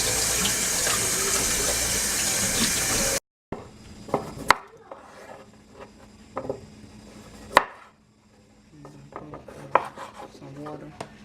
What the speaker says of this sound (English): Gotta wash these potatoes,